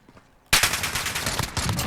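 MK14 EBR battle rifle fired in Call of Duty Modern Warfare, silence broken by a loud sudden shot followed by a rapid run of gunfire and echoing reports, close and dominant with no talk.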